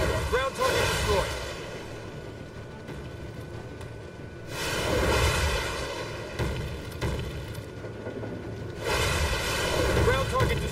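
Deep booming explosions from destroyed ground targets in the VR combat flight game Warplanes: Air Corp, two loud rumbling blasts several seconds apart over steady engine drone, with a game voice heard in between.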